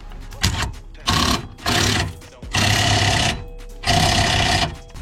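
On a Nissan Qashqai, a suspension arm bolt is tightened with a power tool in several loud, close bursts of buzzing, rattling whir separated by short pauses.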